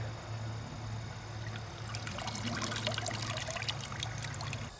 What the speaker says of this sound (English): we shook all the water out of it